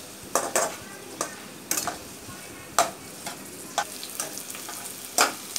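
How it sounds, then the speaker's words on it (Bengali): Onion, garlic and chilli with black cumin frying in a pan, with a steady soft sizzle under repeated sharp scrapes and clinks of a spatula stirring against the metal, close up and with no talk. "ভালো করে ভেজে নেব। পেঁয়াজ, রসুন,"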